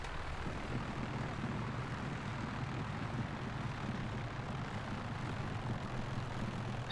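Steady airplane engine drone in the flight simulator game FSX Steam Edition, a continuous loud hum with a low rumble, unbroken and without talk.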